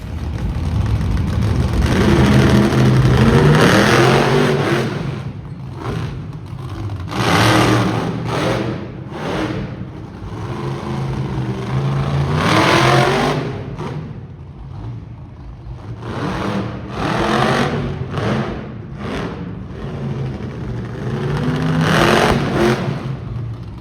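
A monster truck engine roars on the show track at the Ram Motorsports Spectacular in Saskatoon, revving hard in repeated loud surges that rise, drop back and climb again throughout.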